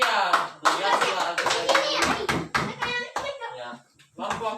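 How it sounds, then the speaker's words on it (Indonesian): A classroom of pupils claps, a busy, close burst of hand claps with a few brief pauses, mixed with children's voices. "Oke, tepuk tangan yang meriah."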